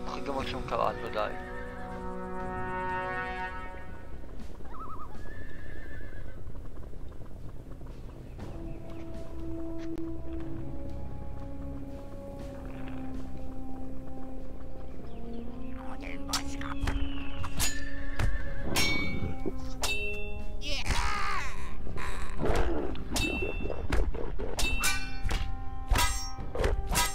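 A horse in the video game Sacred gives a long, descending whinny. Metallic clangs, thunks and clip-clopping hoofbeats follow, with the horse sounds standing out clearly over the game's background audio.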